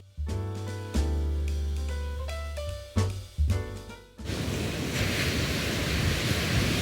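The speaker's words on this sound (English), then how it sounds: "keep those waves a rolling" A few seconds of tonal music give way to a steady, broad roar of Hawaiian ocean surf rolling in, with wind noise blowing across the microphone.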